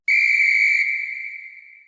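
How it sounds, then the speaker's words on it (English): A magic whistle gives one clear, shrill blast, loud and bright at first, then its upper overtones drop away and a single pure tone tapers off over about a second. "She blows the magic whistle,"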